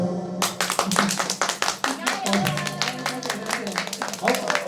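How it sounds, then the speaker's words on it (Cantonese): A crowd claps steadily, a lively burst of applause with many overlapping hand claps filling the space. "我哋越聽得多掌聲咧，就會越唱得 high 㗎啦"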